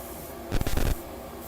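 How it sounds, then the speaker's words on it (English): Short bursts of aerosol spray paint hit the parts of a 1/100 scale model robot kit. They come as a close, loud hiss of about half a second in quick pulses, with a quiet room before and after. "Spray the sides first and then get the top."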